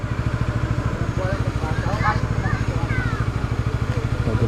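A motorcycle engine idling close by with a steady, even pulsing beat, while people talk over it in short exchanges.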